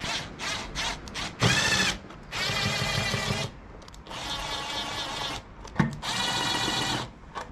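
A power tool undoes screws on a Lexmoto LXR motorcycle, whirring in several loud bursts of one to one and a half seconds each, with short clicks and pauses between them and no talking.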